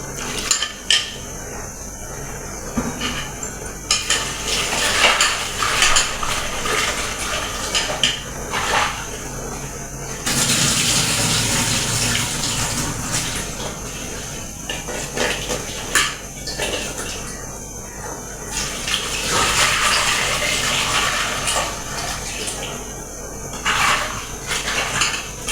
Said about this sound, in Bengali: এখন শুটকিগুলো ধুয়ে নিব ভালো করে।